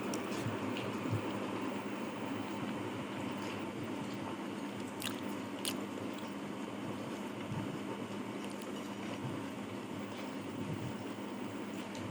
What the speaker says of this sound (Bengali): এখন খাওয়া স্টার্ট করছি